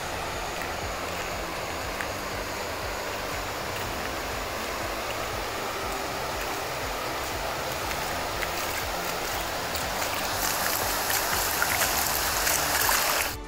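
The Grajaú river, swollen after heavy regional rains, flows below a bridge in a continuous hissing rush of water. It holds steady throughout and grows slightly louder and brighter toward the end, with no talking.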